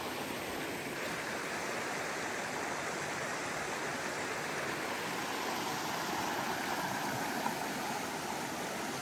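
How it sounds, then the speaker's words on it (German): A stream beside a campsite in Romania flows with a steady, broad rush of water that stays constant and fairly close throughout. "hier ist ein Bach"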